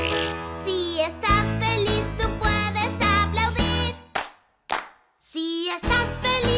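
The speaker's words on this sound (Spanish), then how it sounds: "Si estás feliz, tú puedes aplaudir." Children clap along to a Spanish-language "if you're happy, clap your hands" children's song. Sharp claps land in time with the loud, bright melody, which drops out briefly near the end.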